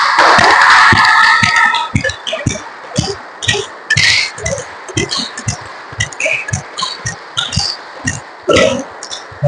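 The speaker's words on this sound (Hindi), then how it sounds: "ताली बजाएं।" Hands clapping in a group yoga and exercise session, a brisk run of sharp claps at a steady rhythm after a short stretch of voiced instruction at the start.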